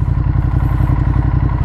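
A 2015 Ducati Monster 1200S L-twin motorcycle engine runs close and loud, a rough, pulsing, lumpy beat throbbing evenly through the short stretch with no talking.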